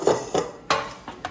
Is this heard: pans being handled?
yes